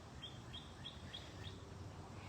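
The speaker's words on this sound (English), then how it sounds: "hearing the sounds of the birds" Birds singing outdoors in a natural setting, a faint series of about five short, evenly spaced chirps over a quiet low background hum.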